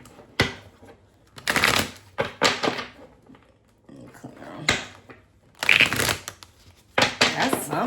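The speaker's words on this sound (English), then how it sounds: "Just give them a quick shuffle." A deck of cards is shuffled in several quick, crisp bursts of riffling and clattering, separated by short pauses, close by with a voice talking in between.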